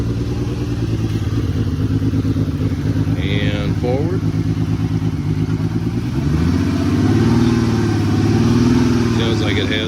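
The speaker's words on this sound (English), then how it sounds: "Sounds like it has an exhaust issue on it." A 2006 Ford Freestyle with an exhaust fault, jump-started at a police towing auction, runs with a loud, rough, rattly drone that rises in pitch as it moves, with brief speech over it.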